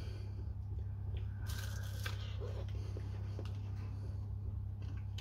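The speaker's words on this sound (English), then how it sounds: "I don't know if you heard the crunch." Teeth bite into a homemade haggis sausage roll with flaky pastry, giving a few brittle crunches and crackles close to the mic over a constant low electrical hum.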